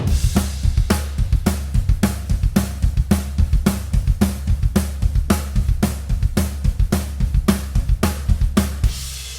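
A steady, simple rock beat on a drum kit, kick and snare alternating with cymbal hits, played alone at a moderate tempo.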